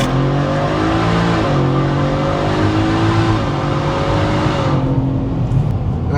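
Whipple supercharged stage-one Ford F-150 truck accelerating hard from a roll, loud engine climbing through revs with a gear change, supercharger whine on top, easing off near the end.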